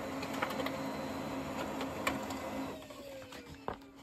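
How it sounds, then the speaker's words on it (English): An inkjet-style printer feeds and prints on a sheet of PIAF swell paper, giving a steady mechanical whir with small clicks and a brief clunk near the end, close by and without talk. "I'm going to put my PIAF paper in there with the more textured side down, because this printer prints on the underside."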